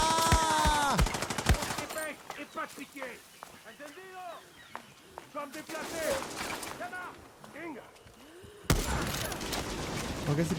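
Gunfire in the video game Far Cry 6: a rapid burst of shots at the start, then scattered single shots and short volleys, with someone talking throughout and another loud burst near the end.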